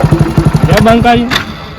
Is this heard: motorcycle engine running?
yes